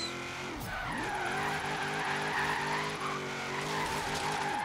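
A game-simulated Mustang engine revs in rhythmic gear-like pulses while tires squeal and skid continuously through a drift in Forza Horizon 3, loud and close with no talk.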